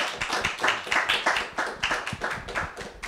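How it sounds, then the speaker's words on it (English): Audience clapping after a panel discussion at a film screening on wetland regulation, a thin round of uneven hand claps with distinct individual claps, steady over a few seconds with no talk. "Feel free to clap."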